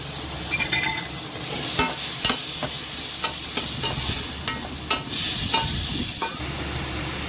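Green peas stirred into a pan of frying mutter pulao, a steady sizzle with repeated spoon scrapes and occasional light clinks against the pan, close and continuous with no voices.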